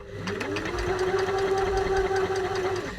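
A sewing machine runs a slow, steady burst while stitching an edged seam, its motor whirring close and fairly loud for about three seconds, starting and stopping cleanly.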